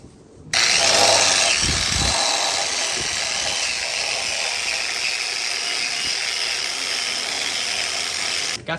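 Ratchet snugging down an engine head onto four studs, heard as a continuous loud, dense mechanical clicking rasp that runs steadily for several seconds, close by.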